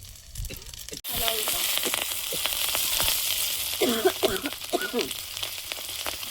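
Whole cumin seeds and dried red chillies hit hot oil, and a dense, loud sizzle bursts in after a brief quieter start, then keeps crackling steadily nearby with occasional stirring scrapes.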